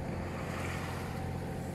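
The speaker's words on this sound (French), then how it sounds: "Je navigue au moteur et on verra un peu plus tard." A sailboat motoring under engine power on calm sea with no wind, a steady low engine drone mixed with water rush and hull noise, constant and close.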